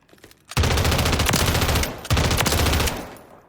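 A light machine gun fed with a 5.56 belt in Call of Duty Modern Warfare III fires two long, loud, close sustained bursts of rapid automatic fire, separated by a brief pause, then trails off.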